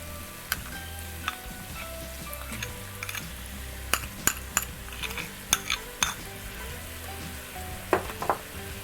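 Peanut butter being stirred into a sizzling keto peanut chicken curry in a pan: a low, steady sizzle broken by repeated sharp clinks and scrapes of a utensil against the pan, with no talking.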